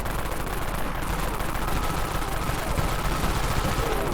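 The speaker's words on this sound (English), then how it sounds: "That's with the Dawn Minigun." The Dawn Minigun in the Dead Frontier game fires a long, steady roar of rapid rounds, dense and continuous for several seconds without pause or voices.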